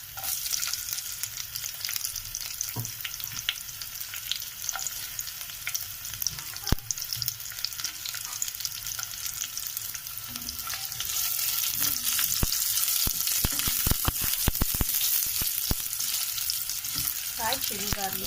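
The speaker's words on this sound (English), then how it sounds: "Fry chili garlic" Chili and garlic sizzling in hot oil in a pan while making Maharashtrian besan kadhi, a steady crackling fry with occasional sharp pops and stirring scrapes, growing louder and denser toward the end.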